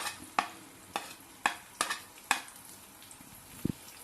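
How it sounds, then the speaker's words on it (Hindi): Onions sizzle quietly as they sauté in a frying pan while a utensil scrapes and taps against it about twice a second, close and fairly soft, with no voices. "पहले हम प्याज डाल देंगे, हल्का सा इनको सौते करना है।"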